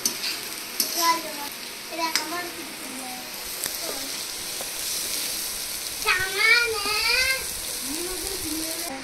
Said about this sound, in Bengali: ওই তেলের মধ্যে আলুগুলো ভেজে নিলাম